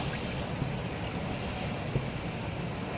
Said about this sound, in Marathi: पाणी टाकतो